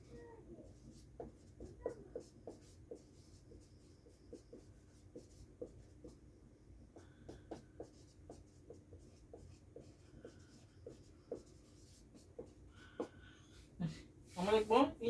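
A pen scratching and tapping on paper in quick, uneven strokes, close and quiet, with short pauses between bursts and a louder rustle at the very end.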